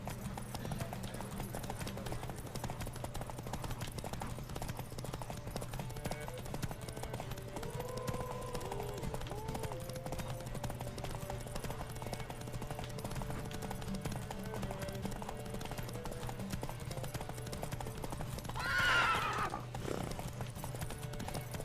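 Horse hooves clip-clop steadily through a race in The Witcher 3, a continuous rhythmic patter of galloping under game ambience with a brief whinny near the end.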